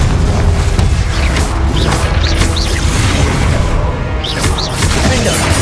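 Loud, dense game combat with booming explosions from the Confringo fire spell in Hogwarts Legacy, layered with whooshes and crashing impacts that run continuously and never drop away.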